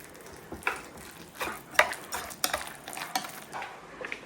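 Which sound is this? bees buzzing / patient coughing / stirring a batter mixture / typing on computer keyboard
stirring a batter mixture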